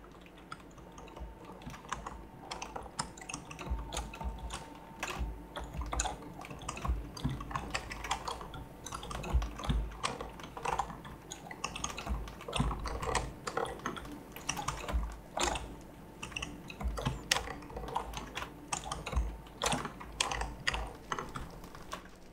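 Rapid, continuous clatter of a computer keyboard being typed on while playing Minecraft, dense irregular keystrokes close up with no talking over them.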